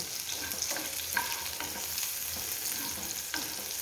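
Small onions frying in a pan for karkidaka kanji, a continuous close sizzle broken by repeated scraping stirs of a spoon against the pan.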